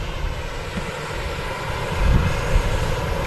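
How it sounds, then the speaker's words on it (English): A fixed-wing airliner on final approach to Manchester Airport, a continuous loud engine roar heard from nearby that swells slightly toward the end. "You can see an aircraft on final."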